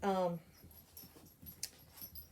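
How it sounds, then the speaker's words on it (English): Dogs with separation anxiety whine outside a closed door: a short, high, wavering whimper right at the start, followed by quiet indoor sounds with a voice speaking softly. "they'll sit outside the door and whine the entire time we're trying to video"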